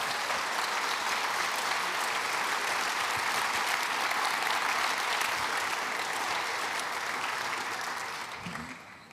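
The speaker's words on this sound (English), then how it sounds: "And you can clap now your hands." Conference audience at the Ecsite annual conference opening ceremony applauds in a dense, steady wash of many hands clapping, close and loud throughout, then thinning and fading at the very end.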